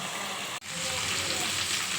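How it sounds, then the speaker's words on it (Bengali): Prawns sizzle steadily in hot oil in a pan, a dense continuous frying hiss that breaks off for an instant near the start, with no talking over it. "তেলের মধ্যে আমি চিংড়ি মাছগুলো দিয়ে দিচ্ছি একটু হালকা করে এটাকে আমি ভেজে নেব"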